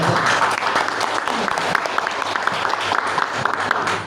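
An audience at a presentation skills session breaks into applause, a full, steady patter of many hands clapping close by that keeps going throughout with scattered sharper claps.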